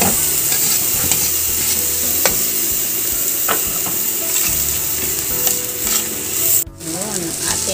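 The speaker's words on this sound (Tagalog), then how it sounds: "Kailangan natin gisahin ang labong." Bamboo shoots and garlic sizzling and being stirred in a hot pan, a steady loud frying hiss with scraping stir strokes throughout and a brief pause near the end.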